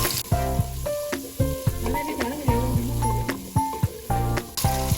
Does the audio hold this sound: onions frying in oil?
yes